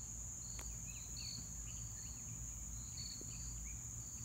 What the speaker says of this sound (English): You know, all the crickets are out.